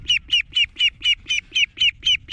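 A Mulard duckling gives about nine rhythmic, evenly spaced peeping calls, loud and close, with faint background noise.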